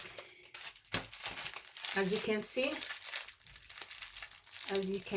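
Paper wrapping around a set of makeup brushes crinkles and rustles in bursts close to the microphone, with someone talking over and between the crackling.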